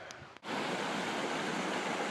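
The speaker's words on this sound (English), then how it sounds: "There's the waterfalls. This is the stream" Steady broadband rushing of a flowing stream begins abruptly after a brief click, constant and fairly close.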